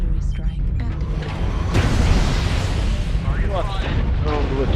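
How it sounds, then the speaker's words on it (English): Artillery strike explosions in the mech combat game MechWarrior Online: loud booming blasts and rumbling over a dense battle din, with a voice talking over it. "Artillery strike activated."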